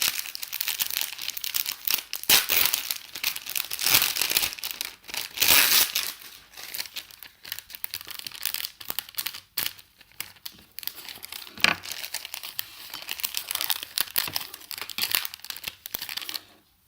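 Close, continuous crinkling and crumpling of a plastic bag, rising and falling in bursts over several seconds with no talking.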